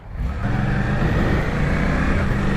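A 2023 Suzuki GSX-8S with an 800 cc parallel-twin engine is ridden hard, its loud, close, steady engine drone pulling under load with a rough, buzzy tone for a few seconds.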